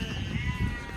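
Sheep bleating on a goat farm, a dense low-pitched flock sound with overlapping calls and murmuring, steady and fairly close throughout.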